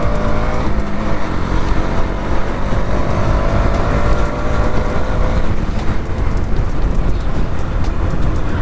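A KTM Duke 200 BS6 motorcycle engine runs steadily while riding, a loud continuous drone with wind rush and no voices.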